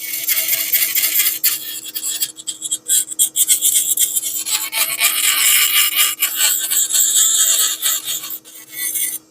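A denture base is rubbed and smoothed with quick, moving strokes, producing a loud, close, continuous rasping and scraping with brief pauses and no talk.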